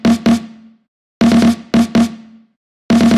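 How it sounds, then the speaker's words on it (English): A second snare pattern for a hip-hop beat plays on its own, with short bursts of sharp, ringing hits separated by silent gaps. "Then this is the second snare pattern."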